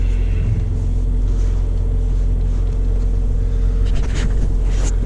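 A personal car's engine idles in snow just after a cold start, a loud, steady low rumble running throughout with slight unevenness near the end.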